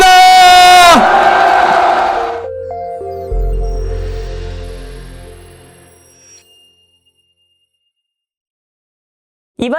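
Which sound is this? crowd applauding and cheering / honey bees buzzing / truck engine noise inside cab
crowd applauding and cheering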